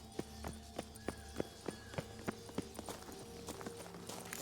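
Unicorn hoofbeats in The Witcher 3 video game make a steady, evenly spaced clip-clop of hooves at a walking pace, clear and fairly close, with no one talking over them.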